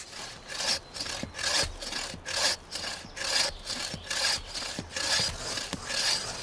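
Steady back-and-forth sawing through a tree trunk, rhythmic rasping strokes roughly every half second, close and fairly loud, with no talking.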